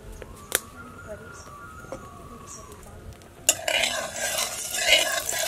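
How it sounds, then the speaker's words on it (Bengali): Oil heating in a kadai during village-style prawn cooking, with a few faint clinks at first, then a louder, steady crackling sizzle that rises and holds to the end. "তেল দিলাম কড়াতে"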